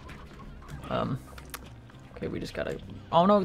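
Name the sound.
briar hen clucking in the video game Slime Rancher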